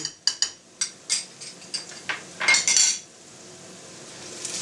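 A metal utensil scrapes and clinks against a pan as peppers frying in tomato sauce are stirred, a run of distinct close knocks and scrapes that give way to a quieter background sizzle.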